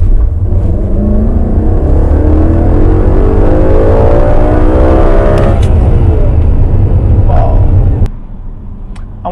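A loud 2015 Audi RS5 engine drones steadily on the road, revving and shifting, then cuts to quieter noise at the end.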